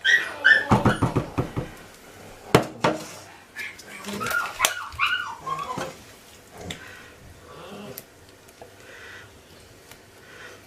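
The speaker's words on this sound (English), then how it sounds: "the dogs are going to start barking again with excitement again" Dogs bark and yip excitedly in short bursts, loud at first and then more scattered, with some whimpering mixed in and voices nearby.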